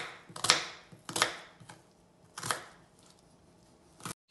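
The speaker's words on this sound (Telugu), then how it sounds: "రెండు ఉల్లిగడ్డలు సన్నగా కోసుకొని ఐదు పచ్చిమిరపకాయలు కట్ చేస్తాం." Onions and green chillies being cut, three or four distinct close chops spaced about a second apart with quiet gaps between them.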